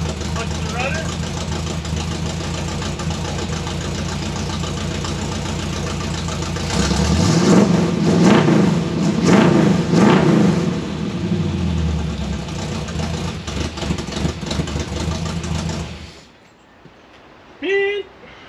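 A 1957 Chevy rag top's engine with a couple of bad spark plug wires runs rough and loud nearby, swelling as it revs in the middle and then cutting off near the end.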